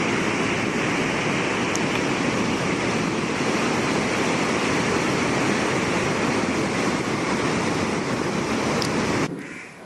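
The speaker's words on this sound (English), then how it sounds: "enjoy the sound of the waves" Ocean waves breaking at Calangute Beach in Goa, India, a steady, full roar of surf with wind buffeting the microphone, sustained for several seconds before cutting off abruptly at the end.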